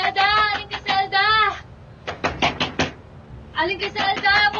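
Loud pounding knocks on a door in a series of bursts, near and heavy, with people shouting over and between the blows.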